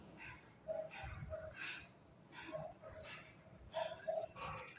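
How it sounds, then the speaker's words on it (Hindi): Scissors cut through the stitched fabric of a Pakistani suit with a lining, trimming around the neckline: a series of close, crisp snips and rustles in an irregular rhythm, with no voices. "और अब मैं इसकी कटिंग करने लगी हूँ।"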